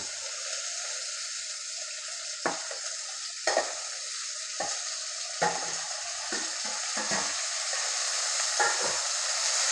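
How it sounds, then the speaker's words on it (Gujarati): Spiny gourd (kankoda) is fried in a reddened tempering, a steady close sizzle with periodic scrapes and taps of a spoon stirring the pan. "તો હવે અંદર આપણે કંકોડા નાખી દઈએ"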